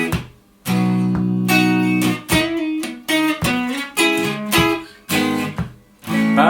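A guitar strums the chords in bright, ringing bursts with short gaps between phrases, played alone and close.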